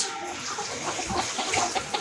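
Healthy laying hens in a poultry farm shed cluck softly and steadily, with a few sharper calls standing out over a constant flock murmur.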